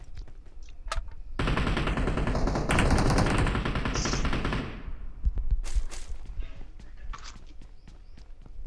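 Dense rapid gunfire bursts from automatic weapons in a battle royale video game, loud and sustained for a few seconds before tapering into scattered shots and footsteps, with voices talking in the background.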